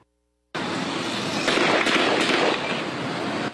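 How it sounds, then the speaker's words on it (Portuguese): Loud bursts from stun grenades and gunfire during a street clash between police and community protesters in Rio de Janeiro, a sudden sustained roar of blasts and cracks following near silence. "Bombas de efeito moral foram utilizadas e até tiros foram disparados"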